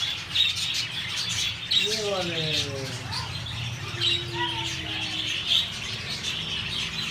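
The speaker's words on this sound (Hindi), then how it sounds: "वो तोते देखो, वो" Parrots, including a long-tailed one, chirp and call in short rising and falling tweets at an aviary where peacocks are also kept, fairly close, while people talk over them.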